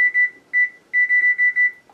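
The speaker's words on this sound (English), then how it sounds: "There will be beep." Bright electronic beeps in quick bursts, a few short groups then a longer run of rapid beeps, close and clear like a microwave oven finishing.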